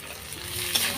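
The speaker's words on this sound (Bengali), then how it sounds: "আলু তেলের মধ্যে, দিয়ে দেবো বিন করা।" Potatoes frying in hot oil for a Bengali pulao dish, a soft steady sizzle with a brief brighter crackle and stirring scrape near the end, fairly quiet and with no talking.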